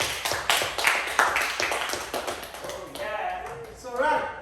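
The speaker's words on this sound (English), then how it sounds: "Give her a round of applause." A school class claps for a classmate with a quick, close burst of hand claps that fades after a couple of seconds, then a voice speaks.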